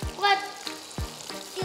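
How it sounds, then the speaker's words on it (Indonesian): Noodle martabak (martabak mie) frying in hot oil, a steady close sizzle with crackling bursts over about two seconds, with brief voices faintly underneath. "Udah kita goreng."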